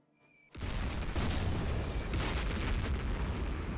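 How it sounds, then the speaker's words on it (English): Artillery shells strike in the World War II strategy game Close Combat 3, a sudden blast erupting into a sustained, rumbling roar of explosions that fills the rest of the moment without speech. "Ah, frickin' artillery, man."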